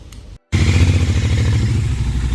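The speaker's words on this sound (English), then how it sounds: "So the lights have been installed, and Shahrukh is going to take a test ride" A Royal Enfield Continental GT 650 fitted with auxiliary lights is on a test ride. After a brief gap its twin-cylinder engine thumps loudly and steadily close by, with a strong low rhythmic rumble.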